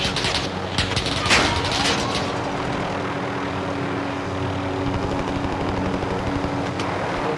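Video game gunfire from Call of Duty: Modern Warfare, a dense ongoing battle soundscape with scattered shots and bursts over a constant low rumble of aircraft and ambience, steady and moderately loud throughout.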